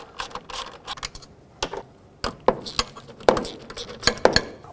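Metallic clicks and clinks of a wrench with a swivel joint working on a 1997-2003 Ford F-150 engine, a run of sharp, close ratcheting taps and tool knocks in uneven bursts, with no talking.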